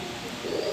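A pair of pigeons, likely Afshan grizzle, cooing softly with a low, steady murmur swelling toward the end, fairly close and fairly quiet, with no talk over it.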